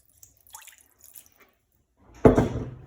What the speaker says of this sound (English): We'll start by pouring a little bit of water into our pan